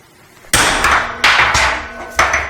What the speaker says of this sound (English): Then you just smack it with a hammer.